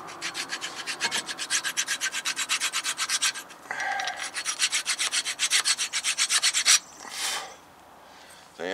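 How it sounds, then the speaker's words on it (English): A German hand file rasps rust scale off a brake caliper bracket on a 2012 Dodge Ram 1500 in quick, rhythmic back-and-forth strokes, close and clear, then a few slower scrapes. "use a file and get all of that rust scale off of there"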